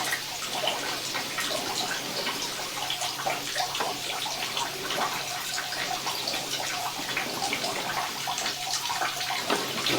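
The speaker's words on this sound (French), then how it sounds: "Nous allons remonter l'urinoir et tirer plusieurs rinçages avec un bon seau d'eau." Bucket of water poured and flushed through a urinal drain during a pipe inspection, a steady rushing, splashing wash of water close by for the whole stretch, with no voices.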